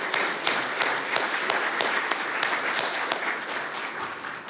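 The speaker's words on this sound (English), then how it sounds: "give him a round of applause" A church congregation claps for a child during a Sunday worship service, a dense, steady round of applause with sharp individual claps standing out, lasting the whole stretch before tapering at the end.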